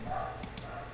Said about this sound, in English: So you hear a dog barking in the background.